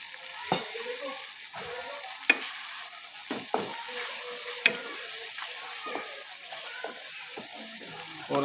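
Garam masala and coriander powder being stirred in a pan of kadhi masala, a soft scraping, sizzling stir with several sharp spoon taps against the pan, fairly quiet and close with no talking.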